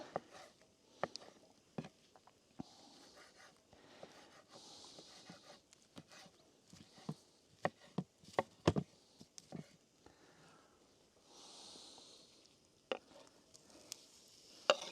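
Matsutake mushrooms sliced by hand outdoors in a Finnish forest, quiet scattered knife taps and cuts at an irregular pace over soft ambient rustle, with a few sharper clicks.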